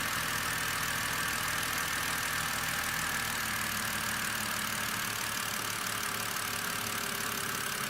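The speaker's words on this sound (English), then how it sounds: "Now, I'm not sure if that's just the engine idling down." A car engine idling during a check for an intake manifold vacuum leak, a steady low running hum and faint mechanical patter that holds even for several seconds, with no one talking.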